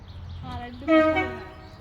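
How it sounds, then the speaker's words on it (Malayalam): Horn of an old two-coach train at a small railway station, one short loud toot near the middle, with a voice heard over background rumble beforehand. "Can you honk the horn?"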